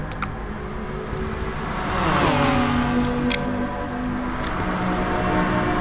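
Sim racing cars, including a McLaren battling alongside another car, drone with steady mid-pitched engine noise that swells as revs climb and shift, a continuous close roar with no speech.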